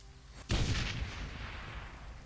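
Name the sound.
bomb explosion destroying bridge, Shadowrun: Hong Kong video game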